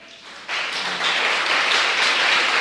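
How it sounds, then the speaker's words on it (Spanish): A church congregation breaks into strong applause after a brief quiet moment, dense clapping that fills the room and holds steady to the end. "Dele un fuerte aplauso al Señor."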